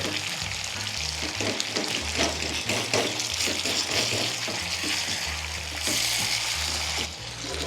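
Tomatoes cooking down in a pan for a coriander chutney give a steady, close, dense sizzle and bubble that runs unbroken through the whole stretch, with no talking.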